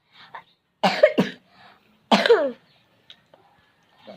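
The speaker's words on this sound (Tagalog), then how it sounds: "Ubo ko." Two or three harsh, close coughs with short pauses between them, followed by quiet.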